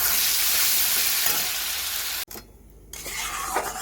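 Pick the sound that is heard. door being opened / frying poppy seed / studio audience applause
frying poppy seed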